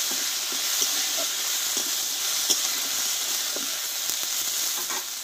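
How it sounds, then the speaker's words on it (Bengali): Spice masala with turmeric powder frying in a pan, a bright continuous sizzle and hiss with soft scraping stirs scattered throughout, close and steady. "এবার দেবো একটু হলুদ গুঁড়ো, দিয়ে মশলাটা আমি একটু কষিয়ে নেব আগে"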